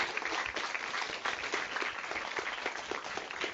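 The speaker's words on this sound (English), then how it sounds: "join me in giving a warm round of applause" Audience applause at an event honoring a Pro Football Hall of Famer, a steady, moderately distant wash of many hands clapping that stays even for the whole stretch.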